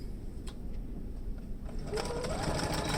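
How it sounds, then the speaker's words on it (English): A sewing machine stitches fabric for a homemade face mask, a faint mechanical whir that picks up and grows steadier partway through. "So let's go to the sewing machine and do that."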